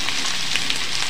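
Onions and garlic frying in oil for Bihari-style dum aloo, a brief steady hiss of sizzling close up with no speech.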